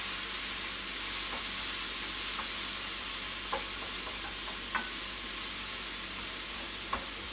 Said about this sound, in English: I throw in some garlic, minced garlic. You hear that sizzle?